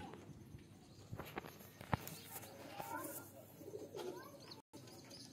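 Pigeons at a rooftop loft give soft low coos mixed with scattered wing flutters and light scuffing, fairly close, over a steady outdoor background with faint distant voices.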